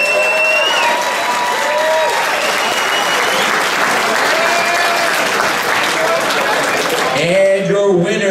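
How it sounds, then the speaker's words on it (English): Loud, dense crowd applause and cheering fill an arena after a fight, sustained throughout, with an announcer's voice breaking in near the end. "let's get another round of applause"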